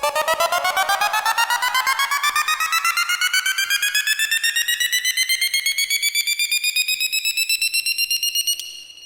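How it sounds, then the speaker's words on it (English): A synthesizer rise with an LFO routed to panning, a bright buzzy tone sweeping steadily upward in pitch for about nine seconds with a rapid pulsing texture, loud and alone, cutting off at the top. "you can also route an LFO to the panning. So let's hear what that sounds like."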